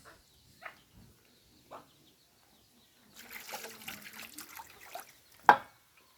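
Lotus flower stems from a wetland being washed in water, with soft splashing and trickling that builds into a busy stretch of sloshing midway, a few isolated knocks before it and a sharp splash near the end.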